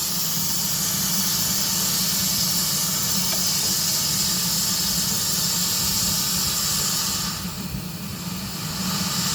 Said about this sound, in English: I'm going to open this petcock at the bottom. And that steam coming out the bottom one